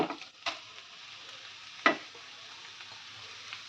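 Grated papaya frying in a pan with coconut, a steady soft sizzle with a couple of sharp stirring scrapes, close and moderately quiet.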